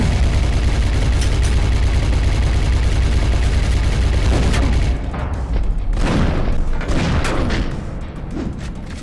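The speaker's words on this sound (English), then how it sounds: "Hide behind pillars when he fires his minigun." Sustained minigun fire from the Brutal John boss in a boomer-shooter style video game, a loud continuous roar for about five seconds, then scattered booming shots and impacts that fade slightly toward the end.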